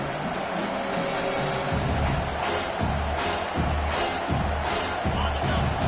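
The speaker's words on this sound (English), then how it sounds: "This crowd, full throat, splitting the eardrums" Dense football stadium crowd roaring and cheering at full volume throughout, with surging swells and broadband noise under faint commentary.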